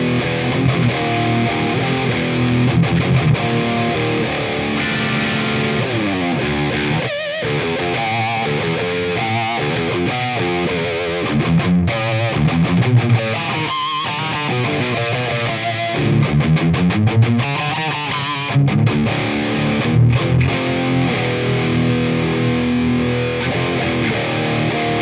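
Distorted guitar played loudly and continuously through a tube amplifier fitted with Soviet surplus vacuum tubes, chords and riffs with brief pauses and a low noise floor, no talking.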